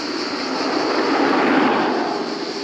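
Hunter Quad M5 high-powered electric scooter riding at speed, making a loud, steady broadband roar like a passing truck that swells slightly in the middle and holds constant, with no speech.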